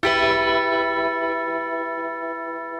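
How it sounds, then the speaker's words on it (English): Tubular bells in a spaghetti western guitar composition strike one loud resonant note that rings out with a long, slowly fading metallic sustain. "And of course, we have the tubular bells."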